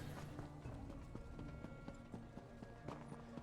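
Horse hooves clip-clop in a steady running rhythm in Elder Scrolls Online, faint and even, with no other sound standing out.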